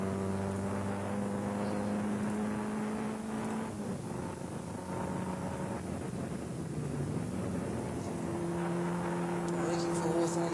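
Production saloon race cars at Brands Hatch GP circuit slipstreaming along the long straight, their engines droning and shifting in pitch as they pass at a distance beneath a steady wash of wind and crowd noise.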